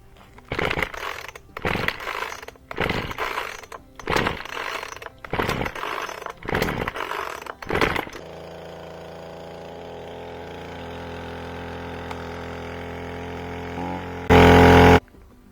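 A chainsaw's pull cord is yanked six or seven times in quick, rasping strokes before the engine catches and settles into a steady, slightly high idle, followed by a brief loud rev near the end.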